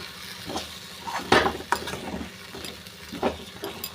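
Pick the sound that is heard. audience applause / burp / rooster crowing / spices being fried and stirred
spices being fried and stirred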